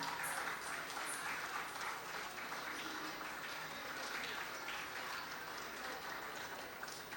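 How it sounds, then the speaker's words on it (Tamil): Applause from an audience for a young dancer at a salangai pooja stage function, a soft, steady wash of many hands clapping at a distance that continues evenly from start to finish. "ரிஷிஷேத்ராக்கு ஒரு பெரிய கைத்தட்டல் கொடுத்துடலாம்"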